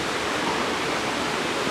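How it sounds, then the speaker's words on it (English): Cheonjeyeon waterfall on Jeju Island produces a loud, steady, broadband rush of falling water that carries on without a break and has no voices over it. "Oh yeah, that waterfall's good."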